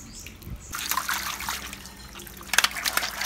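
Water squirts and sprays from a cheap play balloon in a thin, hissing trickle, with a few brighter splashes and spatters toward the end.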